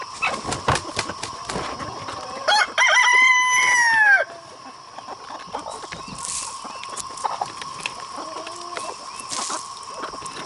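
Backyard chickens clucking softly around the yard while a rooster lets out one loud, drawn-out crow close by, with quieter clucks and bird calls continuing afterward.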